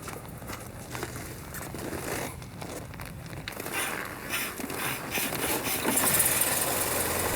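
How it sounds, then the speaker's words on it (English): A vintage Audi Type C Alpine Victor with a crank-start engine fires up and settles into a steady rough idle, its close mechanical rumble gradually growing louder alongside faint clicks and handling noises. "now switch on the ignition"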